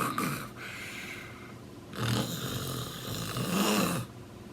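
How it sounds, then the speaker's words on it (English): Slow, rasping snores from a sleeping gorilla rise and fall in a steady breathing rhythm, close by, with a few snorting inhales and no talking. "snoring away, sound asleep"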